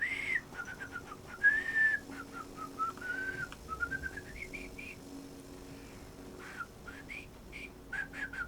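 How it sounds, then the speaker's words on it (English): A person whistles with the lips in a wavering, uneven melody of sliding notes and short broken phrases, close and moderately loud, carrying on steadily across the whole stretch with small gaps. "No, I can't whistle very well today at all."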